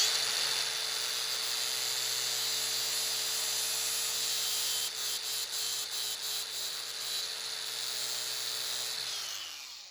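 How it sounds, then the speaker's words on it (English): A flapper disc on an angle grinder grinds metal on a RANS S-21 aircraft wing, giving a steady, loud, high whine that stutters with a few brief dips partway through before spinning down at the end. "So I think I'll hit it with the flapper disc."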